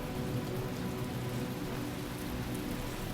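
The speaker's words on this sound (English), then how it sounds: "Oh, looks like the rain has started up again." Steady, even rain falling throughout the Talos Principle video game world, a continuous soft hiss at moderate level with no other sounds.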